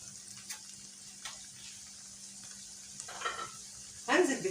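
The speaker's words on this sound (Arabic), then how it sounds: "بعد ما تتشبع من ريحه الثوم ابتدي احط الفلفل واشوحها برضو معاه شويه" Sliced peppers sauté with garlic in a pan for Alexandrian-style liver, a soft steady sizzle with occasional stirring scrapes. A louder burst of frying near the end as the food is tossed, with no talking.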